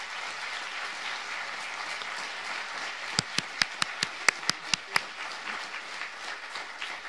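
An audience at a political rally in Milan applauds a farm owner coming on stage; a steady wash of clapping runs throughout, punctuated midway by a string of about ten sharp, close, evenly spaced claps.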